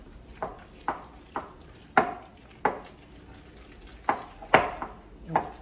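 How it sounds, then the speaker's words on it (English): Raisin bran cereal stirred into muffin batter, about ten soft scraping strokes in an uneven rhythm, close and fairly quiet, with no talking. "So I'm going to stir this in."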